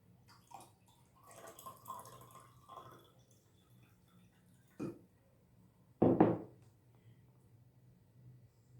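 Water is poured into a homemade measuring cup in a few short splashing bursts, close and fairly quiet, between stretches of near silence.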